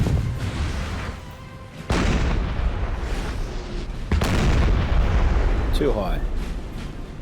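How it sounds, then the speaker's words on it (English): Artillery fire during a Napoleon: Total War battle, heavy cannon booms landing roughly every two seconds with a rumbling roll between shots, while a voice talks briefly over the barrage. "We've seen a lot of artillery exchange."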